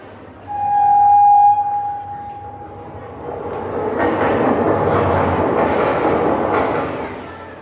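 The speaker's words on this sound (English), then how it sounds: "he boarded the train for his next destination." A train sound effect plays loudly at a school annual day celebration show, opening with a sharp sustained whistle, then a rolling rumble of wheels and carriages that continues steadily to the end.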